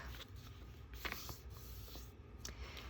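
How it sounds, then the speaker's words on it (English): A sheet of paper is folded in half, giving soft rustling and a few quick creasing scrapes, fairly faint and close against a steady background hiss. "So I'm going to take my paper and I'm going to fold it in half."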